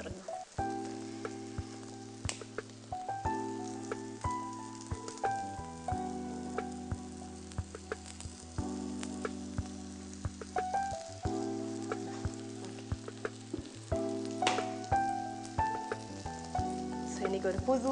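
Vadai fry in oil in a pan with a constant close crackling sizzle, with repeated bursts of louder spattering throughout.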